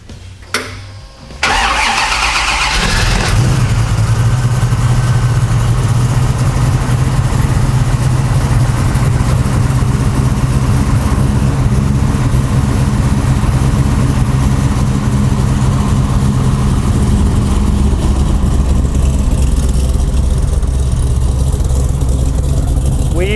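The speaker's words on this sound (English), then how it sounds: "It's got a really good exhaust sound, especially from the rear of the car." A performance car engine cranks and catches, revving up before settling into a loud, steady idle through the exhaust that rumbles on close by for a long stretch.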